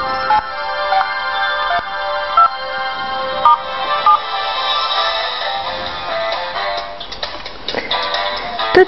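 A mobile phone rings with a repeating electronic melody. The tones are clear and close and continue for several seconds without talk.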